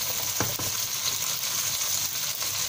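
White radish and okra stir-frying in a pan, a steady close sizzle with faint scraping stirs, no talk.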